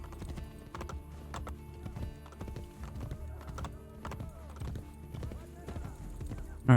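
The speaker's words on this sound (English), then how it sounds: "Horses are so slow." Rhythmic galloping hoofbeats of a horse in Assassin's Creed Brotherhood, repeated clip-clop strides at a steady pace with a faint whinny, and a person speaking over the gameplay.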